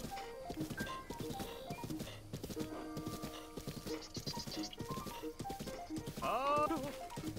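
Clip-clop of horse hooves in The Legend of Zelda: Breath of the Wild under synthetic game music and a voice talking, ending with a horse's high whinny.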